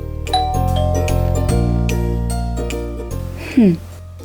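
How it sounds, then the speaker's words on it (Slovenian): A doorbell rings in a children's bedtime story, sounding as a clear, close sequence of bright melodic chime tones held over a sustained musical bed, followed by a short extra chime near the end. "ko je nenadoma pozvonilo pri vratih"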